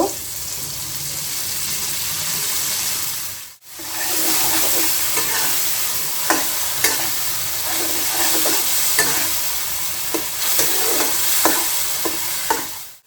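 Onion paste frying in a hot pan of oil while cooking teli koi fish, a loud continuous sizzle with a brief break partway through and occasional clicks of stirring, no voices.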